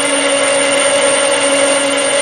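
Steady machining hum from a lathe with a copy attachment turning aluminium at about 320 RPM with a long stick-out, a continuous tonal whine holding level throughout with no talk.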